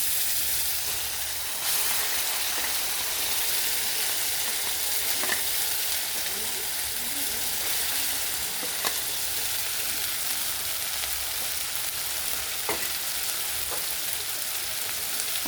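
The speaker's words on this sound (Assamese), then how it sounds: "মই মছলাখিনি এড কৰাৰ পিছত অলপ খুন্তিৰে লাৰি দিছোঁ" Spices fried with garlic, ginger, dried chilli and onion pastes are stirred with a spatula over browned onions, giving a steady loud sizzle with occasional scraping clicks for the curry.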